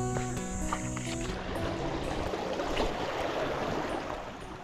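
A strong river current with churning waves roars loud and steady, a broad continuous rush of water that fills the scene throughout, with a faint musical tone fading out early on.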